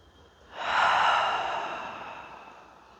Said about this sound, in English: Just begin to take some full, long breaths in through your nose and out through your mouth.